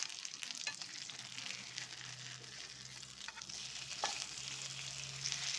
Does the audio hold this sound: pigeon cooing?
no